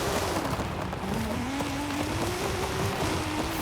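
A 1,300-horsepower Porsche 944 race car in the video game Forza Horizon 5 roars under a rushing, noisy texture, its engine pitch sweeping upward steadily through a gear.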